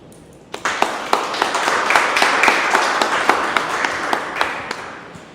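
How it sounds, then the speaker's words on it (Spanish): An audience at a church gathering bursts into applause to welcome a speaker, with sharp individual claps building into a sustained round of clapping that continues for several seconds. "pues lo recibimos con un fuerte aplauso"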